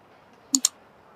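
Two quick, close button presses on a calculator while entering a value to check whether a number is rational or irrational, sharp clicks in an otherwise quiet room.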